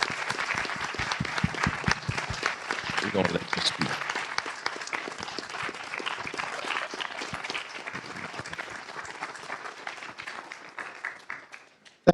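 Sustained audience applause at a city council meeting in Miami Gardens, dense clapping filling the room for most of the stretch and tapering off near the end, with a voice speaking briefly over it.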